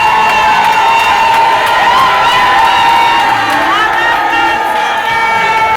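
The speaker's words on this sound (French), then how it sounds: "c'était un accueil chaleureux lui réservé par cette foule immense venue pour la circonstance" An immense crowd cheers loudly at a political campaign welcome, a dense wall of shouting, whoops and high voices that carries on without pause, up close and strong.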